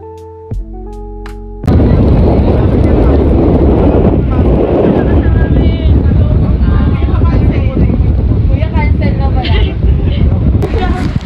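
Strong wind roars into the microphone at a hanging bridge in Dingalan, Aurora, Philippines, after a brief quiet start, a loud, continuous rushing buffet that fills the rest of the clip.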